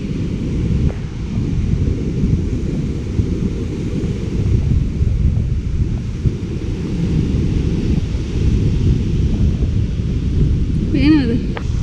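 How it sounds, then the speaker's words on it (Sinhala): Rough monsoon-season sea on the Sri Lankan coast, big foamy waves surging in a continuous heavy roar with strong wind buffeting the microphone, loud and close throughout. "මුහුද දරුණු වෙලා තියෙන්නේ අද."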